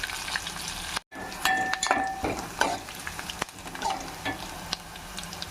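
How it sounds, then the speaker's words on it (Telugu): Okra and onion pieces sauté in a pan for bendakaya pulusu, a steady sizzle broken by scraping stirs and a brief dropout, close and moderately loud, with no talking. "ఉల్లిపాయ ముక్కలు కూడా కొంచెం మగ్గనిద్దాం"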